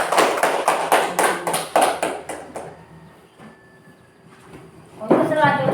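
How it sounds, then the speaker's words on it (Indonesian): In a classroom, children clap hands in a quick burst of sharp, regular claps that fades out, leaving quiet before a voice speaks. "Beri tepuk tangan."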